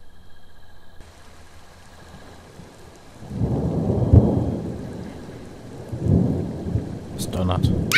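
A video game thunderstorm with rain: soft background patter, then two heavy rolling thunder rumbles swell and fade, with a few brief clicks near the end.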